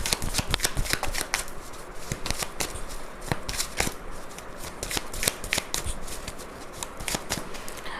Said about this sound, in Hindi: सो मैं इसको शफल कर लेती हूँ और फिर कार्ड्स निकालते हैं।